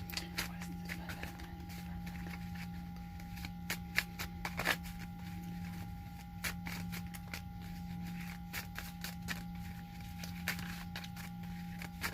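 Old, warped tarot cards being shuffled and handled, producing repeated crisp riffling flutters and papery slaps close by over a steady low hum, with no talking.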